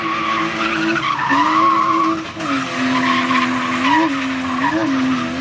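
A drift car's tires skid and squeal on a track, a loud continuous screech with a wavering pitch laid over the revving engine for several seconds, with no pause.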